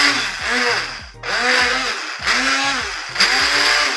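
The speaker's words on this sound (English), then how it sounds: "I'm gonna get my immersion blender and then just puree this right into the pot." An immersion blender purees pepper pot soup directly in the pot, its motor whirring loudly and steadily in repeated bursts with a churning, slightly varying pitch as it moves through the thick mixture.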